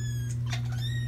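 Kitten, apparently a Siamese, crying for food, heard as a short loud meowing wail over a steady low hum.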